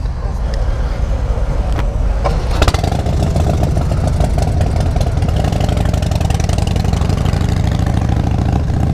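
Harley-Davidson motorcycles, a 2018 Fat Bob with a 114 engine and a 2017 Dyna Low Rider S with a 110, rev steadily and loudly up close through a roll-on run, a continuous V-twin rumble with a brief surge partway through; people talk over it.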